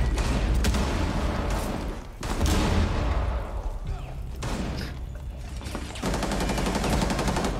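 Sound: gunfire in a video game (Rainbow Six Siege)

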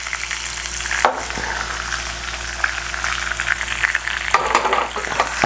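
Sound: chicken frying and being stirred in a pan

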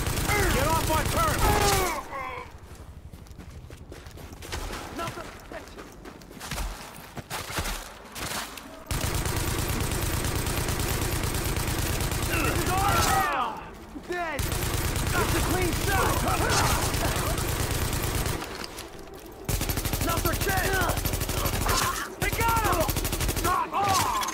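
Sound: gunfire in the video game The Division

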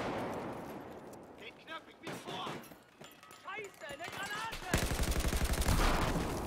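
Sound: gunfire in the video game Battlefield 4

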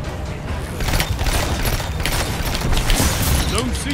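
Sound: pulse rifle gunfire in video game

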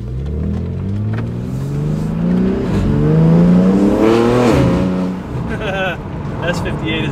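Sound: BMW G80 M3 S58 engine accelerating, front mount intakes

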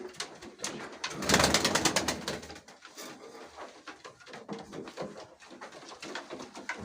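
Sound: tumbler pigeons cooing in a loft

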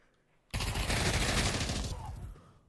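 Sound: weapon firing with recoil in CS:GO VR video game

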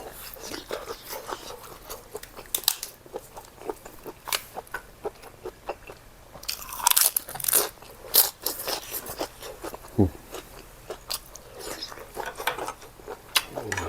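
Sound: crunchy chewing of squid

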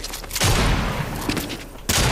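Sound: gunfire in the video game Fortnite

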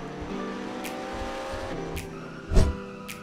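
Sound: car racing in Roblox video game Palm Ridge

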